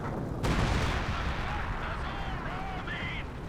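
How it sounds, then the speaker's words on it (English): Howitzer artillery fire in Company of Heroes 2 during a 2v2 match: a sudden heavy blast about half a second in, followed by sustained rumbling battle noise with scattered higher whines. "Howitzer wiping the pyros out the back."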